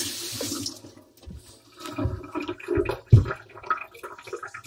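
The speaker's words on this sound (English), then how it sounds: "So again, it's just splash and go" Water splashed and trickling over a Naniwa 1000 grit sharpening stone during knife sharpening, a close wet splashing and pouring sound with a few irregular bursts, alone without talk.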